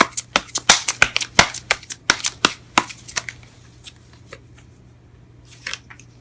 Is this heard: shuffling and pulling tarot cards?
yes